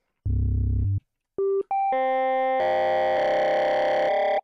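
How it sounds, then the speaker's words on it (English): Keyboard notes run through a simple distortion effect: a low buzzy tone, then short and sustained bright pitched notes, ending in a loud, dense, harsh chord, all up close with no talking. "if we have just a simple amount of distortion and we start to play keys, you're going to hear that it's going to be all fucked up"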